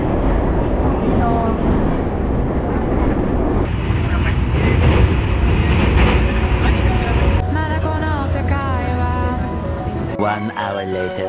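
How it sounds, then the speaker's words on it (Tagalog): Inside a moving train in Tokyo, a steady rumble and rolling hum fill the cabin, shifting in character partway through, while people talk over it nearby. "By the way, nandito na ako sa train."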